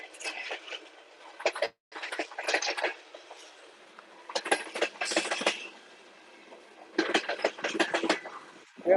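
A train passes close by, loud rumbling and rattling wagons arriving in repeated rhythmic bursts separated by brief lulls.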